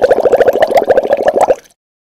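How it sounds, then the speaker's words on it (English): Air bubbles escape from a bottle held under water in a fast run of loud, close, regular glugging plops, roughly a dozen per second, before stopping abruptly into silence. "So you can actually hear that as the bubbles get bigger, the note goes down."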